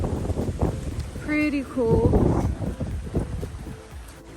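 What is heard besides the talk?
wind blowing across the water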